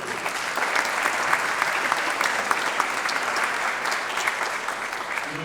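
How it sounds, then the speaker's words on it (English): An audience at a chamber of commerce small business awards day applauds Align Credit Union, a steady, dense round of clapping heard at moderate distance, with faint voices underneath. "Align Credit, give them a round of applause."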